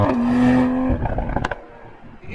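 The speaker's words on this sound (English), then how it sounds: "This makes a lot of pops and bangs in sport mode." A sports car engine in sport mode drones, then drops off as a few sharp exhaust pops and crackles burst out, close and loud.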